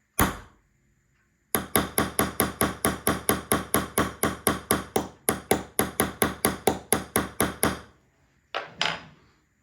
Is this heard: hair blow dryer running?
no